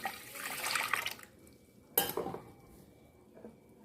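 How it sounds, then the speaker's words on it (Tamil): Tamarind water splashes and pours into a cooking pot for prawn gravy, followed by a metallic clatter and a few quieter drips and knocks. "அந்த தண்ணியை முதல்ல ஊற்றிக்கலாம்"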